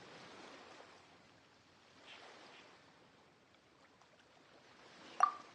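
Ocean waves lapping at a harbor in a PS4 video game, a soft, steady wash of surf with a gentle swell midway and a brief sharper splash near the end, with no voices.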